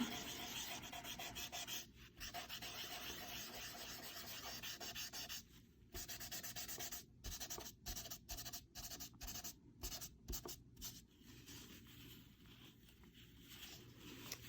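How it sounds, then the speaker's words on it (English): Chalk pastel being rubbed into paper in a kids' Northern Lights art lesson: soft, steady scratchy rubbing strokes with short pauses between passes, close and quiet. "down here, we can rub this in a little bit more"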